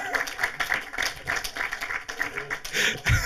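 Audience at a panel discussion clapping in a steady, moderately close round of applause, with a voice speaking briefly near the end.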